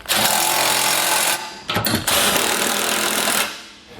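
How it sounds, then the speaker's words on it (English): An impact tool with a 3/4 inch socket drives down trailer hitch bolts on a 2018 Acura RDX, loud rapid hammering bursts running for over a second, a brief stutter, then another long burst that tapers off. "Then we'll come back with a 3/4 inch socket and tighten all our hardware down."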